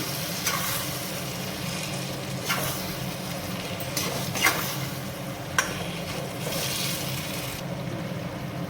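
Chicken bharta sizzles steadily in a pan after a spoonful of butter is added, with occasional soft stirring scrapes over a continuous frying hiss. No one speaks.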